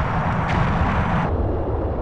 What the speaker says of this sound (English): Firing missile.